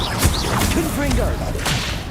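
A Confringo blasting spell fires in the Hogwarts Legacy video game, heard as a few sharp whooshing, thudding bursts close up, layered with swirling game effects and a speaking voice.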